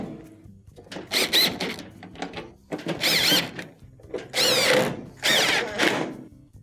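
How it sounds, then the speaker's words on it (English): A power screwdriver drives 1/4-inch screws around the perimeter of a GE dryer console in several short, close whirring bursts with quiet pauses between them. "Reinstall the 1/4-inch screws around the perimeter."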